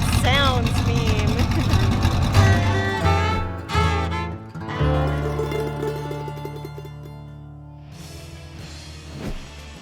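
A loud, rumbling engine in a modified SEMA show car runs throughout, with deep low-end growl and shifting revs, while voices talk over it.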